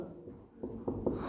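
Chalk or marker strokes on a board during a statistics lesson, a few short scraping bursts in quick succession, close and fairly clear, with no talking over them.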